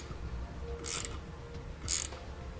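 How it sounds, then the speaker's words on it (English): A ratchet with a 5/16 socket tightens nuts on screws during a trailer brake controller install on a 2018 Honda Odyssey: two short, quiet bursts of ratcheting clicks, close by and spaced about a second apart, with no voices. "you're going to want to grab a 5/16 socket, and we can go ahead and tighten up those nuts on the bottom of those screws"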